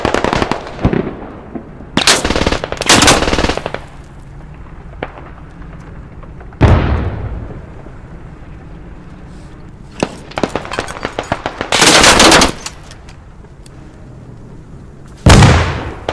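Loud bursts of gunfire ring out in an anti-tank squad video game as a bridge is fired on, arriving in several separate volleys of rapid shots and blasts with quieter gaps between them.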